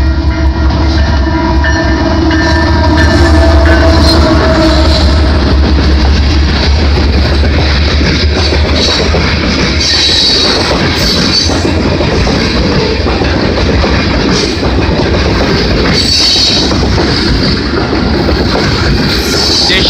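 A freight train passes on the Windsor and Galt Subdivision in London, Ontario, in January, with a loud, continuous, close-up rumble of wagons and rail clatter that holds steady for the whole stretch.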